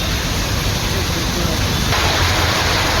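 Rain falls on Rameswaram island in Ramanathapuram district as a dense, loud, hissing wash of noise with no break across the few seconds, and no distinct drops stand out.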